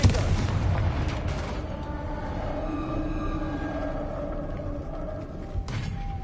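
A Confringo fire-blast spell bursts in Hogwarts Legacy with a loud opening boom, then a sustained rumbling roar of flame and debris that lingers for several seconds before a second sharp impact near the end.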